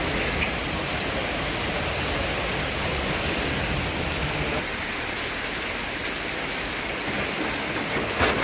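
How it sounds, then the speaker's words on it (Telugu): Heavy rain pouring onto a road in Hyderabad during a storm, a loud, dense, unbroken hiss of downpour close by, no talk. "ఇక వాన రోడ్డు మీదకి అత్తే వరద"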